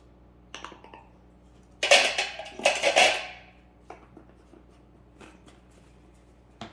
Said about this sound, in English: And we're gonna mix it together.